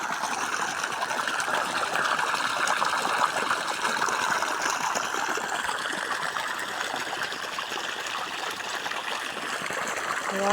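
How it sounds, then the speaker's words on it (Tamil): Steady rushing water pouring continuously from a pipe into a farm field, a close, even gush with no pauses. "தண்ணி வந்து இன்னொரு வயலுக்கு போய்கிட்டுருக்கு"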